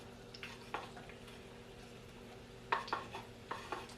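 Chicken fried rice ingredients land in a hot pot with soft sizzling and a few sharp clinks of utensils against metal, quiet and close, no talking.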